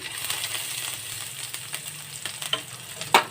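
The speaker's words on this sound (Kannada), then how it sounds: "ಹಾಕೋಬಿಟ್ಟು ಈ ಥರ ಮಿಕ್ಸ್ ಮಾಡ್ಕೊಳ್ಳಿ ಅಂದರೆ ಫ್ರೈ ಮಾಡ್ಕೊಳ್ಳಿ" Liver frying in a pan with coriander powder, garam masala and turmeric, a steady close sizzle with scattered scraping stir strokes and a sharper clink near the end.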